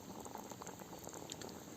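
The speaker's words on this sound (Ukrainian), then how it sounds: "Ще пару хвилинок кипить." Georgian ajapsandali, a vegetable stew with beef, garlic and coriander, simmers in a cauldron with a steady, soft bubbling that runs throughout at low level.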